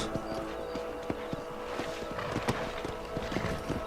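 Horse hooves clip-clop steadily in the Red Dead Redemption game on Xbox 360, a regular run of sharp knocks over a busy background of game ambience.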